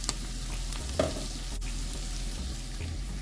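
Onions and cashews sauté in a pan for egg korma, giving a steady close sizzle with a couple of brief clinks and scrapes from stirring, no talking.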